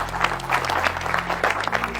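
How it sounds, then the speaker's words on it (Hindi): An audience at an event in Dehradun gives loud, continuous applause, with dense overlapping claps throughout and a steady low electrical hum underneath. "आप और इस पे जोरदार तालियां सब बजाएंगे"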